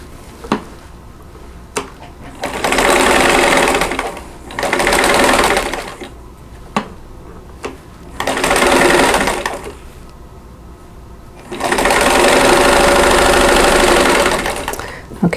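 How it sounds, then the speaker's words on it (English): A sewing machine stitches quilt block pieces together in four loud bursts of rapid, even whirring. Short pauses between the bursts carry isolated mechanical clicks. "I'm sewing the first 2 pieces of each row together."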